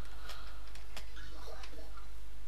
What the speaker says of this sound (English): That noise you can hear is a will-o'-the-wisp